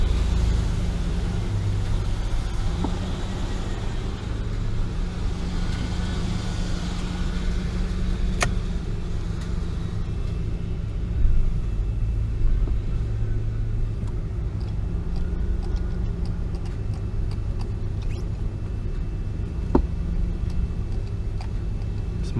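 1993 Ford Explorer on a test drive after a clutch replacement, giving a steady, continuous low engine and road rumble at moderate level with no talking.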